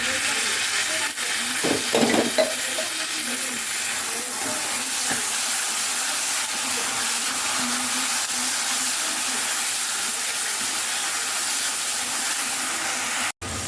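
A Kashmiri chicken curry masala is sautéed with ground tomato. It sizzles and hisses steadily at moderate volume, with a few soft stirring scrapes near the start.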